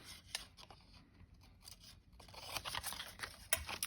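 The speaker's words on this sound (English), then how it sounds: "Now I can just trim it off." Scissors trim paper for a handmade journal, giving a close, crisp run of snipping and scraping blade strokes that grows busier toward the end and finishes with one sharp snip.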